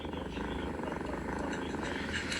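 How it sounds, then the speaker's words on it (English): A relaxed cat purrs softly and continuously, a low rumbling texture running through the whole short moment with no pauses. "purring."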